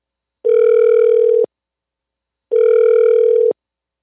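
A telephone ringback tone heard while a call connects, two identical steady one-second beeps separated by a two-second silence, clear and alone.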